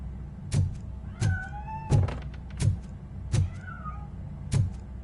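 A cat meows in RoboCop: Rogue City: a few short, mid-pitched mewing calls rise between a regular series of heavy thumps, with no one speaking.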